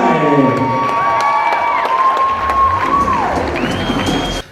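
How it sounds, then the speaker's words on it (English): Cheering and clapping crowd at a women's MMA cage fight event, loud whoops and high shouts ringing over steady applause, close and lively. "And a big round of applause for Samantha Anderson"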